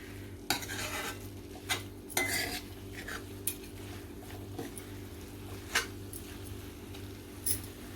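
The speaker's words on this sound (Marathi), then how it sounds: "मिक्स करून घेते चांगलं" A spoon stirs a dried shrimp (sukka javla) mixture in a pan, giving irregular metallic clinks and scrapes every second or so over a faint sizzle and low hum, close up with no talking.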